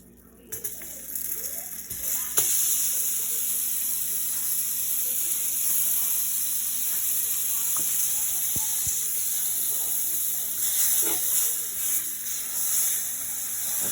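Onions added to browning flour in a pan for smothered pork chop gravy, giving a sudden steady sizzle and hiss that holds fairly loud throughout with small pops and crackles.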